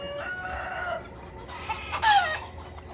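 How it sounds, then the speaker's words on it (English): A rooster crows nearby at night, followed by shorter squawks and clucks from chickens, fairly loud against quiet background. "The roosters get feisty at night."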